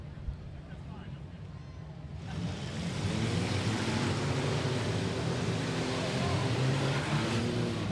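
Figure 8 race cars roar into a heat race at Rapid Speedway, the engine noise swelling sharply after a quieter start into a dense, sustained roar under an announcer's voice.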